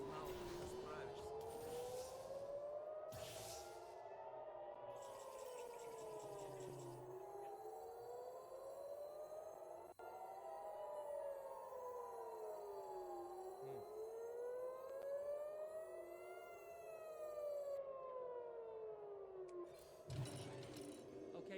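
Siren wailing in long rising and falling sweeps that repeat steadily, with overlapping tones and occasional mechanical clicks and bursts of noise around them.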